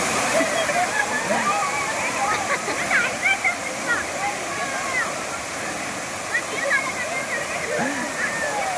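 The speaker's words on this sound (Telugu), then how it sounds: "ఇదే ఆ సెకండ్ వాటర్ ఫాల్స్." Steady roar of the second waterfall at Kudiya Waterfalls, a constant rushing wash of water heard close, with people talking over it throughout.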